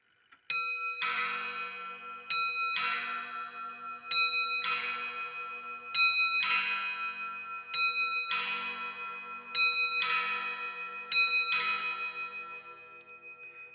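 A Comtoise clock movement from Odobez of Morez strikes its gong in seven evenly spaced, ringing blows, each decaying with a long metallic shimmer, loud and close with no talk.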